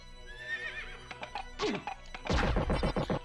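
A horse in Castlevania: Symphony of the Night gives a long, shrill whinny, then snorts, followed by a loud clatter of hooves and crashing impacts.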